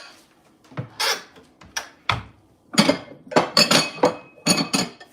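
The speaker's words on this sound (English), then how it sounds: "These dishes are so noisy." Dishes being put away in a home kitchen clink and clatter nearby, a run of sharp ceramic and glass knocks in uneven clusters separated by short pauses.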